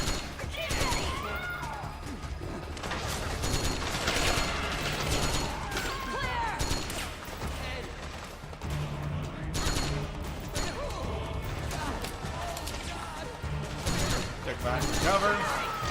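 Gunfire from a Metal Gear Solid game, with bursts and shots going off repeatedly through a dense, busy mix of game noise and mechanical clatter, while a person talks over it.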